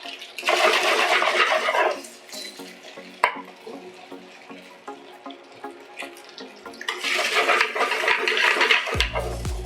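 A cold-water and arrowroot slurry poured into a simmering duck and mushroom ragout, giving two bursts of close, loud liquid splashing and sizzling separated by quieter bubbling, with no one talking.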